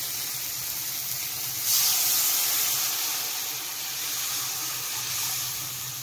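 Water poured into a hot pan of pumpkin, chanchina and potato curry, releasing a steady, loud hiss of steam and sizzling that swells briefly and stays continuous throughout.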